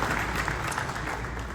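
Steady applause from a crowd at a memorial gathering for the Banyamulenge killed at Gatumba, Kalemi and Bibogobo, a dense, even clapping that fills the whole moment without pause.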